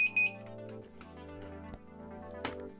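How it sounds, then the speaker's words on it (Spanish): An inexpensive electronic alarm system with an infrared remote and magnet sensor sounds with short high beeps at the start, followed by quieter tonal electronic ringing and a few clicks, moderately faint and without talk. "Si acerco el imán cuando está sonando, la alarma va a seguir sonando."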